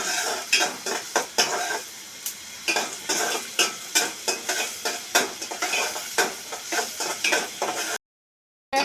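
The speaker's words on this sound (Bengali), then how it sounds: "পেঁয়াজটাকে আমি বাদামি কালার করে ভেজে নিয়েছি" Chopped onion frying in a pan until brown, sizzling steadily while a metal spoon scrapes and clinks against the pan in quick repeated strokes, close and loud, ending in sudden silence.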